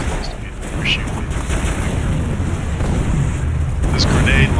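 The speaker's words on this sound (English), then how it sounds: "This grenade launcher is a little bit hard to get used to." Grenade launcher shots in a video game come as heavy, booming blasts over constant rumbling game noise, with a couple of sharper high cracks near the start and near the end.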